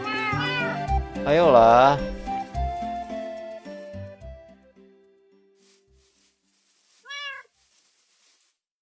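A cat in the video game Minecraft meows, first in a loud drawn-out wail mixed with someone talking, then alone in one short, clear meow after a pause.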